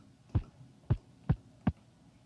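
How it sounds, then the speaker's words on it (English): Four deep, punchy kick drum hits in a steady rhythm, each a short low thump with a quick decay, played alone. "So here's my kick."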